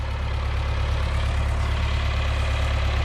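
An older farm tractor engine idles steadily at close range, a deep, even rumble that holds without change throughout.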